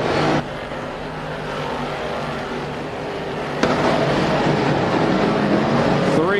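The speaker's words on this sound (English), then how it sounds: "as Sherby leads by 3 car lengths over Toth." Race cars lapping a track during a race, engines roaring steadily and close with a sudden louder surge midway as more cars sweep by, a continuous dense motor drone throughout.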